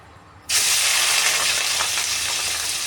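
Chicken gizzards drop into hot oil for a liver fry, setting off a sudden loud, close sizzle that holds steady with occasional faint pops and crackles.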